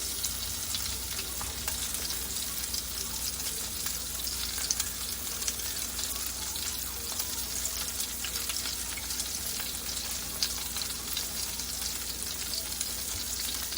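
Salmon patties fry in a full pan. The sizzle is steady and dense, and it keeps up without letting off, with small crackles and pops scattered through it. No one speaks.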